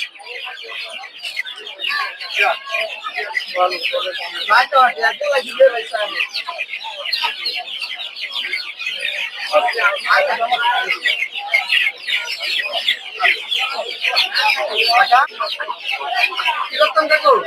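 Tiger breed chicks at a rural poultry market chirp constantly in a dense, overlapping chorus of high peeping, loud and close, with market voices mixed in.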